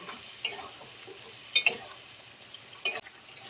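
Poppy seed, cashew and mustard paste being stirred into spiced masala in a pan for potol posto, with a soft sizzle and three sharp utensil clinks scraping against the pan.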